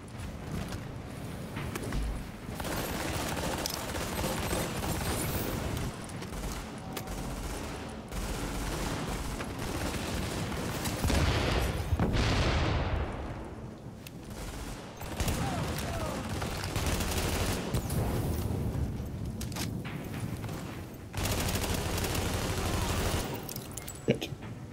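Enemy gunfire in The Division video game, dense bursts of automatic shooting and impacts that run almost nonstop, loud and close, with a brief swell of noise partway through.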